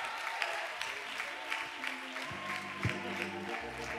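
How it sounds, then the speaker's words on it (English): Church congregation clapping and applauding for the bishop during a service, a steady broadband patter of many hands with some organ or sustained tones underneath, moderately loud throughout. "If you love the bishop and Sister Foster, would you get loud and clap your hands?"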